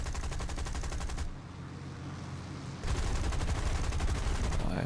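The PBY-5A's side gunners in War Thunder let loose long rapid bursts of machine gun fire, loud and continuous, broken by a brief pause of engine drone before firing resumes.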